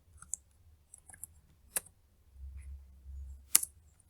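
Typing a command on a computer keyboard, a few quiet, scattered key clicks with two sharper taps, close and faint over a low background hum.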